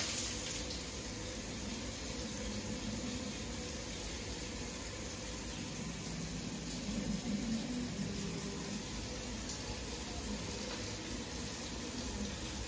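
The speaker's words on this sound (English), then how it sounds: "Got to fill up that whole reservoir up there before it comes down like a rain." Real Rain shower head running warm water, a steady broad hiss of falling spray that stays even and fairly loud for the whole stretch, with no talk over it.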